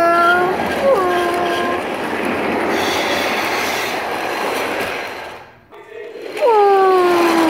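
Train from the film The Polar Express, on icy wheels, rumbling as it starts to move, with a steady roar, wheel squeals and whistle-like tones, breaking off briefly before another squealing surge.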